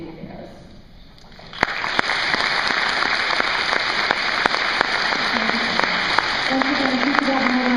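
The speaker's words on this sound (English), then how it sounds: "if you could have another round of applause for Patrick, Aaron, and Marissa" A crowd at a school Veterans Day celebration claps for honored veterans; the applause swells in after a quiet moment and continues steadily, with sharp individual claps standing out and faint voices underneath.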